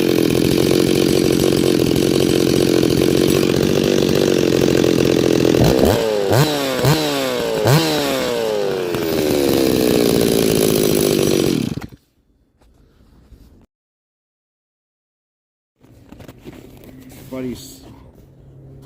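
A freshly rebuilt Stihl MS260 chainsaw test cutting wood: a loud, close engine drone with several sharp revving sweeps, then it cuts off into near silence before faint noises return.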